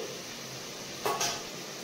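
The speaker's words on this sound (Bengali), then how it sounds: "আর একটু ঢেকে দিই" A metal lid set over a pot of cooking meat, one brief clatter followed by a second softer clink against a quiet kitchen background.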